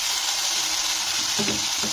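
Loud, continuous sizzle of batter frying in a hot buttered wok, with a brief stirring or scraping near the end.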